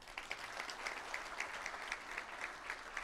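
A meeting audience at a Swedish sports federation assembly claps in steady applause, a dense even patter of many hands heard from mid-distance in a hall.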